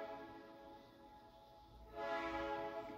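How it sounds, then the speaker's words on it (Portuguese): Train passing at a distance, heard indoors as a faint, sustained tonal drone with a broadband rush swelling near the end; no talk. "Esse trem, né, Murilo?"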